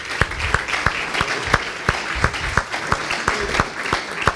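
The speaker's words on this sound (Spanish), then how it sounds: "Dele ese fuerte aplauso." Church congregation applauding together during a sermon, a steady rhythmic burst of clapping with sharp regular beats, fairly close and full, with no talk over it.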